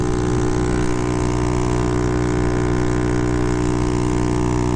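A Honda Ruckus scooter with 12 g rollers runs at about 50 km/h and 7200 RPM, its small engine giving a loud, steady drone with constant wind buffeting and no speech.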